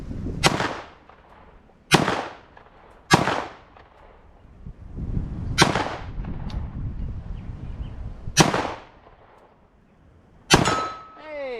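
A 9mm AR pistol caliber carbine fires six separate shots at a steel target outdoors. Each crack is loud and sharp, spaced one to three seconds apart, and the last one is followed by a ringing ping from the steel.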